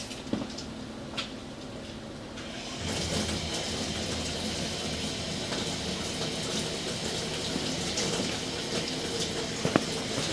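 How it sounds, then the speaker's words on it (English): Water runs from a tap into a stationary laundry tub in a house, a steady rushing flow that starts after a few seconds and continues evenly, with occasional small clicks and knocks nearby. "I'm going to run some water in the stationary tub here and see if we can see where that comes in"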